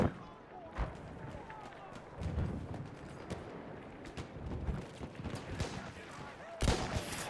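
Ross MkIII sniper rifle shots fired in Battlefield 1 on the Alçitepe map, several sharp broadband cracks spread across the stretch with a loud final report near the end, under excited voices talking.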